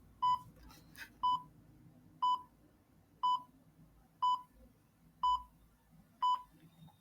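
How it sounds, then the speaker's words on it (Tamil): A countdown timer running out gives seven short, identical electronic beeps, evenly spaced about a second apart, with a faint background hum between them. "டைமர் முடியட்டும்."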